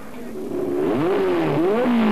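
A Formula 2 racing car climbs the Wallberg hill course in 1984, its engine note rising and falling through gear changes as it passes nearby, loud and continuous with no talk.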